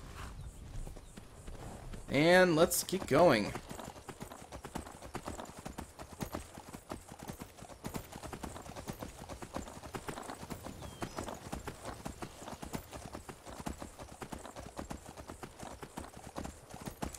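Steady clip-clop of horse hooves trotting in the video game Skyrim throughout, with a brief horse whinny early on and someone speaking over the rhythm.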